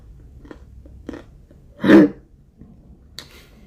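McDonald's chicken nuggets being chewed close up at home, a few soft bites and one louder crunchy burst in quiet surroundings.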